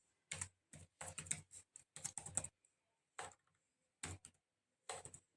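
Typing on a computer keyboard while entering a Power BI formula: several quick bursts of close key clicks separated by short pauses, with no talking.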